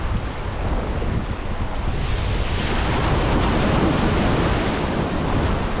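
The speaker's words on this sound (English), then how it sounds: "Waves generally come in sets of 7 where the first 3 are the biggest." Ocean waves surge and break against rocks on the shore of Stewart Island, New Zealand, a loud, continuous roar of surf with wind buffeting the microphone and no voices.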